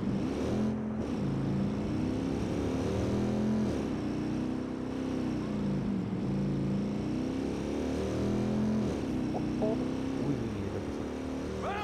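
Green motorcycle ridden in the video game Watch Dogs 2, engine droning steadily close up with repeated revs and pitch dips as it accelerates and shifts, a continuous loud motor hum throughout.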